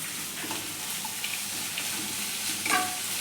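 Onions for a potato poori curry sizzle and fry in a pan, with a steady crackle close by and a few scraping stirs and clinks of a utensil, quiet and without any talk.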